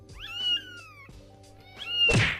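A kitten meows loudly twice, each cry a drawn-out, falling wail, with a soft thump between them and a heavier bump at the end.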